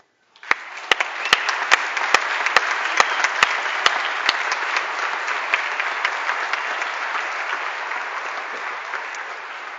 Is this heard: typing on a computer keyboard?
no